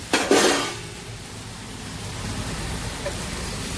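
A lid lifts off a pot of brinjal and drumstick curry simmering on low heat, with a short clatter at the start and then a soft, steady hiss.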